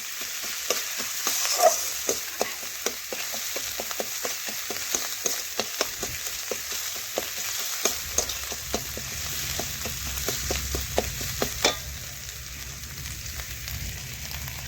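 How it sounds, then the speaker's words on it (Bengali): Spices frying with chicken in a pan, a steady sizzle broken by frequent sharp scrapes and clacks of stirring, close and fairly loud throughout. "আর মেশাতে মেশাতে দেখুন আমি একটু মশলা ভেজেও নিলাম।"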